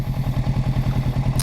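A motorcycle being ridden at low speed, its engine chugging in a steady, close pulsing rhythm with no talk.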